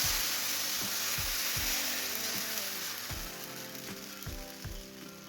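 Rice flour batter for ghavan sizzles steadily on a hot pan, a dense continuous frying hiss with a few soft low knocks, close and alone without talk.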